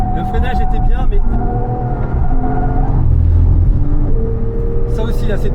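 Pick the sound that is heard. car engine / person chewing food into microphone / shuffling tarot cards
car engine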